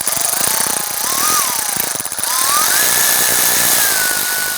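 A wrench snugs starter bolts on a 2005-2010 Chrysler 300 with a 5.7L V8 Hemi, heard as a continuous loud ratcheting buzz close up, easing briefly in the middle and then resuming.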